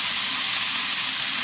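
Garlic and onion, seasoned with salt and pepper, sizzle loudly in a hot pan as they stir fry, a steady close bright crackle with no pauses or voices.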